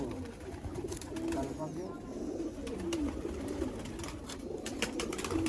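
Close, steady cooing from a flock of teddy pigeons runs throughout, low and rolling, with faint chirps and soft background noise mixed in.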